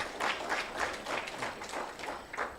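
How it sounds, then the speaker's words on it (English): A conference audience at a food crises report launch gives a round of applause, a short burst of dense, moderately loud clapping that swells in small waves without any talk. "Another round of applause for"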